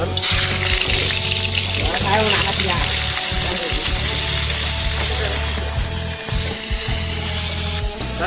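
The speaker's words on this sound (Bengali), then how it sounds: "এই সিদ্ধ করা কাঁঠালগুলো এখন ভাসতে হবে তেলের মধ্যে" Boiled jackfruit pieces frying in hot oil for a country-chicken curry, giving a loud, steady sizzle throughout with occasional stirring scrapes and faint bubbling.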